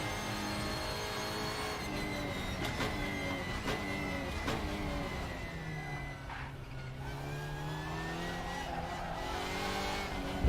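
A race car in RaceRoom drives with a steady engine drone, and tyres lock and squeal under braking, the pitch sweeping up and down while the engine stays loud and continuous.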